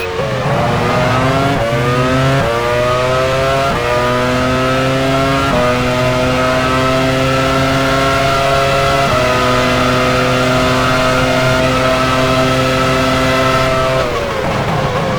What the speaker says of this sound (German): De La Rosa fährt an die Box.